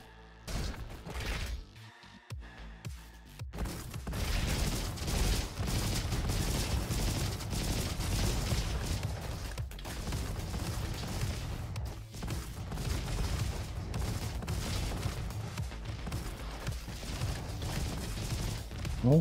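The Thumper gun in the shooter game Roboquest fires in a dense, continuous barrage of punchy shots, loud and unbroken over mechanical game noise.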